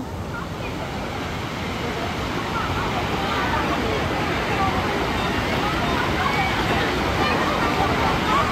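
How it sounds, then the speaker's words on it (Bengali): Water pours and crashes down at a water park in Gimhae, Korea, a steady, loud, broadband rush with no break, while people can be heard around it. "এবারে পড়বে, এই যে পড়তেছে নিচে দেখেন।"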